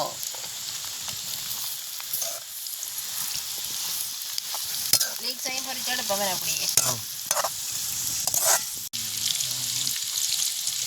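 Chopped leeks fry in vegetable oil in an outdoor village kitchen, giving a steady sizzle broken by stirring clatter and scraping, with brief background voices.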